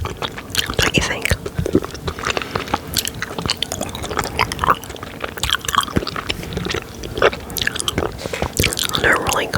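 Close, wet chewing of pink gummy candies, steady squishy bites and sticky mouth sounds throughout, with soft whispered talk mixed in.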